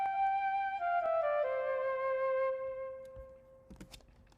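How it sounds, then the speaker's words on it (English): Flute accent phrase in a pluggnb beat, treated with reverb and a low-cut EQ, playing a short melodic line of sustained, gliding tones that fade out alone, with faint percussive hits near the end. "This is a flute. It just plays at the beginning of each 4 bars,"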